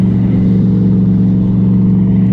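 Steady, buzzing electric motor drone of a ProBoat Recoil 2 Shreddy Edition RC boat running on water, close and continuous with a constant pitch for a couple of seconds.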